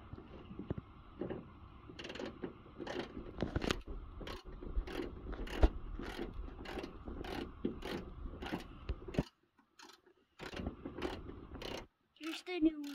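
A ratchet wrench works a 12 mm hood bolt loose on a 2004 Mitsubishi Lancer ES, giving a fast, close series of sharp clicks that pause briefly, then return in a few short bursts.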